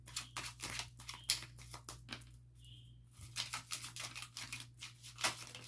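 Close, quiet riffling and papery flicks of tarot cards being shuffled in short irregular bursts, with a brief lull midway.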